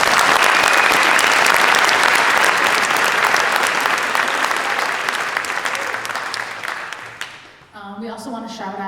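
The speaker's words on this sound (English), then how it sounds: "I want to give them a round of applause" Loud, dense applause from a festival audience for returning senior jazz band members, sustained for most of the stretch before fading as a voice begins speaking near the end.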